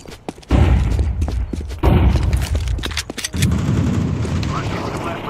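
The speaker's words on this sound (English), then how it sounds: "Throwing a flashbang!" A flashbang grenade bursts in Counter-Strike 2: sharp loud bangs with gunfire-like cracks at intervals, each followed by a ringing wash and lingering low rumble, close and forceful.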